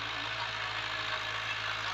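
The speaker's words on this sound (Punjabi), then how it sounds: "ਉਹ ਇੱਧਰ ਟਰੈਕਟਰ ਚੱਲਣ ਡਿਆ ਸ਼ਰਾਦਾ" A Fiat 640 tractor with a disc harrow runs on a wheat field in Punjab, Pakistan, a steady low drone with a faint knock, held quiet and even for about two seconds.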